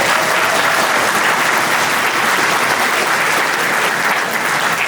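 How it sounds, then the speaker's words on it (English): A large crowd applauds steadily and loudly at a community fundraising campaign event, the dense clapping filling the whole stretch without a break and no voices standing out. "Let's give him a round of applause."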